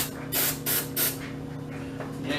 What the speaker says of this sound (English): let's just do our very best to spray this in there.